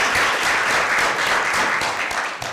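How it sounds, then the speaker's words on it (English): An audience claps in sustained, dense applause at a civic equity presentation, loud and steady throughout with no voice over it. "let's clap for that."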